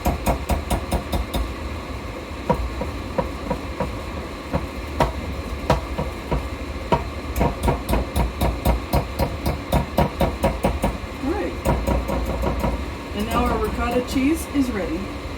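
Electric mixer works a stiff hard cheese mixture for lasagna, giving a steady motor hum under a fast, regular run of heavy thumping knocks that continues for about fifteen seconds.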